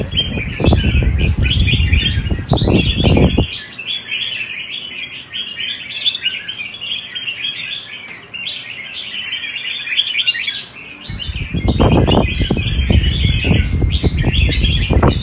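Fighting songbirds at a bird-fighting competition chirp and trill in dense, bright bursts throughout, with heavier flutter and rustling at the start and end of the stretch.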